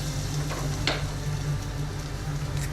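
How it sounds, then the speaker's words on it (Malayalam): Mustard seeds, fenugreek and curry leaves sizzle in hot coconut oil for a Kerala-style fish molly, a steady close crackling fry with a few sharper pops and spits, no voices. "വെളിച്ചെണ്ണയിലേക്ക് നമ്മൾ കുറച്ച് കടുകിട്ട് കൊടുക്കുന്നു"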